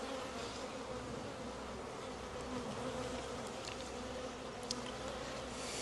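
Honey bees buzz steadily inside an open hive, a dense, continuous drone filling the space at close range with no talking over it.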